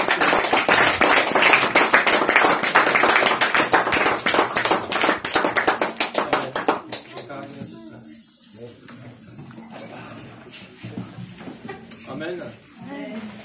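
A church congregation claps hard in rhythm, loud and dense for several seconds, then thins out to scattered claps beneath a speaking voice.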